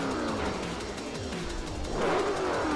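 A supercharged police Cobra in a racing video game at the Hockenheim ring snarls continuously, loud and close, its engine note climbing as it revs harder near the end.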